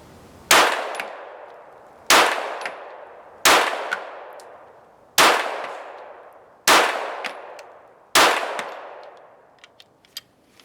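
A tuned Heckler & Koch VP9 pistol with an F2 trigger fires six loud, sharp shots at a steady, unhurried pace, each crack followed by a brief ringing decay, with a few faint metallic ticks at the end.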